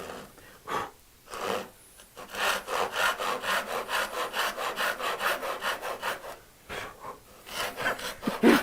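A hand saw cuts through wood along a marked line with rhythmic, close rasping back-and-forth strokes, steady in the middle and pausing near the start and end.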